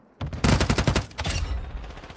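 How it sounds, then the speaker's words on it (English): A friendly mortar strike in a first-person shooter video game lands as a rapid cluster of sharp, loud explosive bursts that fade into a rumbling tail. "Friendly mortar strike inbound."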